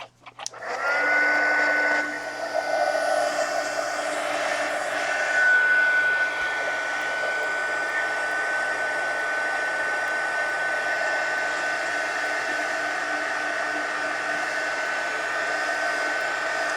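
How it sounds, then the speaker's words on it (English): A heat gun blows steadily to dry a chipboard art journal cover, starting with a brief rise and then holding a constant, close, whining roar with no talk. "I'm gonna have to hit this with the heat gun before I close it"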